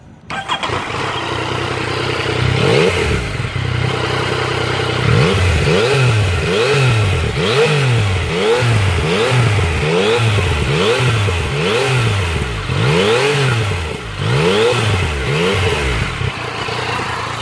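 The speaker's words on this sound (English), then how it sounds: "how when you wind the throttle up, you know, what kind of sound you're getting basically" A 2017 Yamaha MT-09 motorcycle starts up in standard mode and is then revved hard over and over. The loud, close throttle blips come at an even, quick rhythm, each rise and fall repeating for several seconds before the engine settles.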